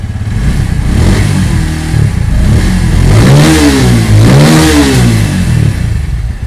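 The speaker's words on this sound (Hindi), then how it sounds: "आपको हम स्टार्ट करके एक बार एग्जॉस्ट नोट सुना देते हैं बाइक का" A 2023 Bajaj Pulsar P150 motorcycle engine idles, then revs up sharply twice in quick succession, the exhaust note rising and falling loudly and close by.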